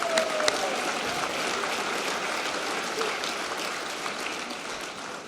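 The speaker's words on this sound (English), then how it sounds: "but a round of applause for Jeff." A crowd at a retirement reception claps steadily and densely for several seconds, a sustained wash of applause at moderate volume with no voices over it.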